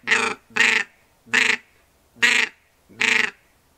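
A hand-blown duck call imitates diving ducks with five short, raspy quacks, close and loud, spaced evenly with brief silent gaps.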